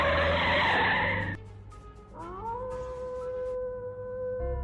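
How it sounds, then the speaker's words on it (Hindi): Sound effect of a car starting and speeding off: a loud, dense engine roar cuts out abruptly, then a sustained rising squeal-like tone follows at moderate level, with no talking. "इसीलिए उसने तुरंत गाड़ी स्टार्ट की और आगे चला गया।"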